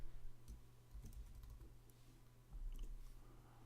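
A name is typed on a computer keyboard in quick, light clicking bursts, close but quiet, with a faint steady hum underneath.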